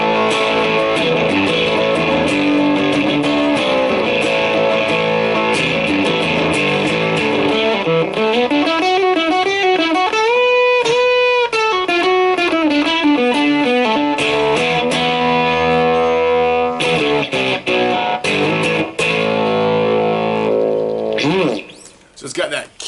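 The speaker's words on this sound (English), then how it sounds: "So it's got that killer vintage fuzz sound" Electric guitar run through a vintage LRE fuzz pedal, playing thick, saturated distorted chords and sliding lines continuously and loudly, ending with a brief dropout and a few final strums.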